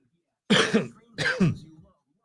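Two rough, throaty coughs close by, one after the other with a brief pause between them.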